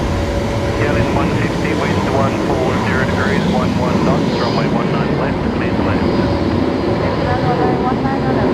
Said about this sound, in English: We're just going to see the Qantas 73 heading off first.